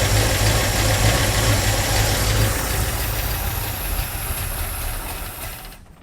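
A Ford Mustang Mach 1 engine that may be running a little rich idles loud and close as a steady rumbling drone, a carbureted motor revived after sitting on old gas, fading out at the end, with no voices.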